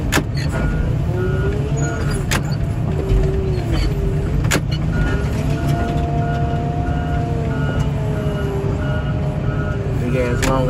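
Long trucks rumble steadily nearby while reversing beeps sound over the engine noise, with a few sharp clicks and knocks mixed in.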